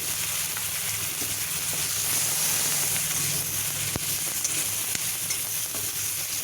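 Slit green chillies, nigella seeds and garlic sizzle steadily in hot oil in a pan, cooking for a Bengali fish curry. A loud, constant frying hiss runs throughout with a few small pops and no talking.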